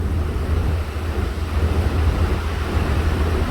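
Water rushes past a ferry on an Alaskan crossing to Cordova, a loud, steady wash of broadband noise with a low rumble and gusty wind buffeting, with no voices.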